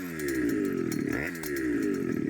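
A custom motorized scooter (goped) engine with a suspected clutch fault buzzes loudly and continuously, its pitch dipping and rising once midway as the revs change, close to the microphone.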